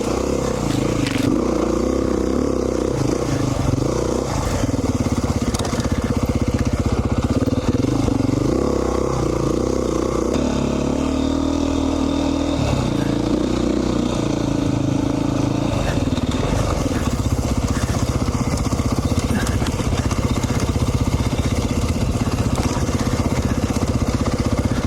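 A 2019 Beta 500 RR-S dual-sport motorcycle engine runs steadily and close by for the whole stretch, lugging low with a smooth, continuous drone and mechanical clatter.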